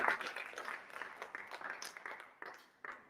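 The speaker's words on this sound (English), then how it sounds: "Keep on clapping, ladies and gentlemen." Audience applause fills a festival hall for democracy and human rights, a dense and fairly even patter of many hands that slowly thins out.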